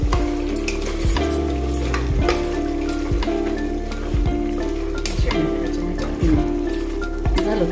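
Red chilli powder and turmeric sizzle steadily in hot fat as they are stirred for an Old Delhi-style mutton korma, a close, continuous frying hiss broken by scraping stir strokes.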